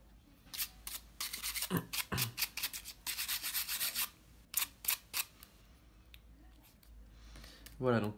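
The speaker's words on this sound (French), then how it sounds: "Donc on va gratter avec le i-sésamo." Scraping of an iSesamo pry tool against glue and glass residue on the frame of an Archos Diamond smartphone during a screen replacement, in repeated short rasping strokes with someone speaking French over them.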